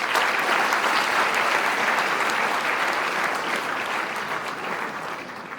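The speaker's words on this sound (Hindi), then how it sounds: "आप उन्हें एक जोरदार तालियों से स्वागत करें" Steady, dense applause from an audience welcoming successful NEET 2021 medical-exam students at an honouring ceremony, sustained throughout and tapering slightly toward the end, with no talk over it.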